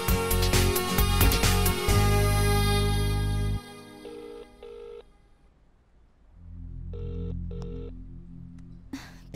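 A phone rings in two short bursts of repeated electronic tones, following a loud stretch of mixed background sound.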